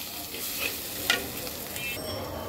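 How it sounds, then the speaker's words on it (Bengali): Ground turmeric, coriander and cumin sizzle in oil in a pan for a katla fish curry, with a soft stirring scrape and light crackle over a few close seconds. "এবার এটাকে সুন্দর করে কয়েক মিনিট ভেজে নেব।"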